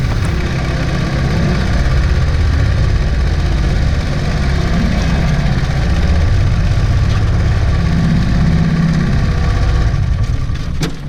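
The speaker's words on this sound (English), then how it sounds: "that's an experience trying to get upstream with this mud motor, this mud skipper" A mud motor (mud skipper) outboard on a small boat pushes upstream through river rapids, its engine a steady, loud, close drone that holds for the whole stretch with no talk.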